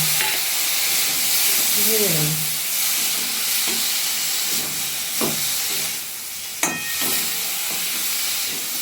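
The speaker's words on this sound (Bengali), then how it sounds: "মশলাটাকে একটু ভাজা ভাজা করে নেব।" Spice paste and deseeded tomatoes fry in a pan for a katla fish curry, giving a steady close hiss broken by stirring scrapes and one sharp utensil clink.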